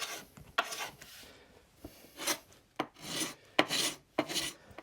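Short raspy strokes of a card scraper across wooden seams, stripping hardened wood glue; isolated scrapes come in an uneven rhythm, close and fairly quiet.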